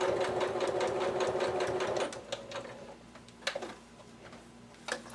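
Sewing machine stitching in reverse over elastic while closing a small fabric mini wallet: a fast, steady mechanical run for about two seconds, then stops, followed by faint handling clicks.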